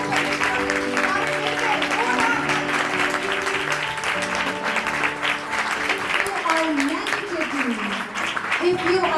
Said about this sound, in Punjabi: Give a good clap to God.